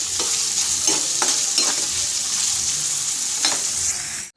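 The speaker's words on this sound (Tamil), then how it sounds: "பன்னீரை நெய்யில் நல்லா பொன்னிறமாக வறுத்துடுவோம்." Paneer frying in ghee gives a steady bright sizzle up close, broken by a few soft stirring scrapes and taps before the sound cuts off abruptly.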